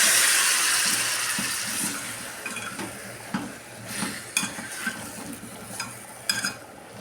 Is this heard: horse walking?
no